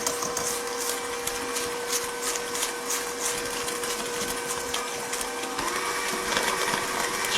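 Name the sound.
electric mixer combining muffin batter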